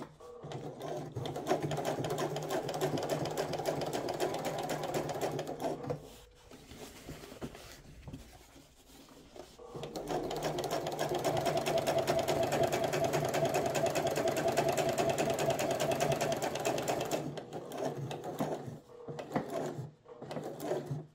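A sewing machine topstitches trouser seams, running in steady bursts of rapid stitching, pausing for a few seconds, then running long again before stopping and restarting briefly; close and clear with no talk.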